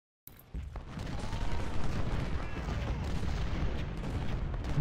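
Gunfire on a Civil War battlefield in Ultimate General: Civil War: a dense, continuous, distant rumble of massed rifle and cannon fire. It starts abruptly after a brief silence and stays steady, with faint voices mixed in.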